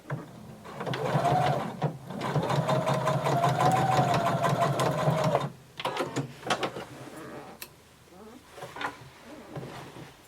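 A sewing machine stitching denim for a McCall 6361 garment runs in a close, steady mechanical whir for about five seconds, then stops and starts in short bursts with clicks and handling noises, no talking.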